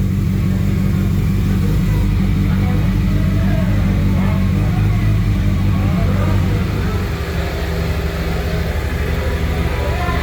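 A motorcycle idles and rumbles as it is ridden into a biker bar in Windhoek, Namibia, a steady low engine drone with slight revving that eases off toward the end.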